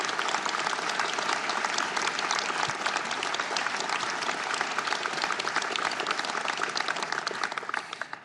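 Sustained applause for a team at a French government handover ceremony, dense and even clapping from a large indoor audience that fades slightly at the very end.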